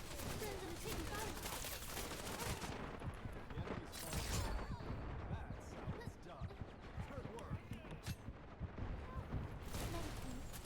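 Rapid gunfire from the online shooter Wild Assault rattles continuously through the whole stretch, bursts overlapping with loud impacts and chaotic battle noise, while voices call out beneath the shooting.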